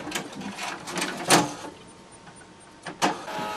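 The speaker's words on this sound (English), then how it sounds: "And now it's scanning." An HP DeskJet 3052A all-in-one printer whirs and clicks as it scans an alignment page, with mechanical motor sweeps and a few sharper clunks.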